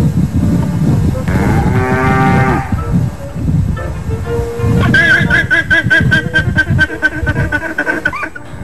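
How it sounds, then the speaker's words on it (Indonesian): A water buffalo lets out loud, drawn-out bellowing calls, one deep moo followed later by a longer, rising, wavering call. "suara yang dikeluarkan kerbau itu"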